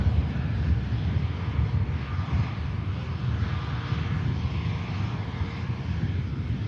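Air France airliner taxiing onto the active runway at Manchester Airport for departure to Paris, a loud continuous jet engine roar mixed with wind buffeting the microphone, steady throughout.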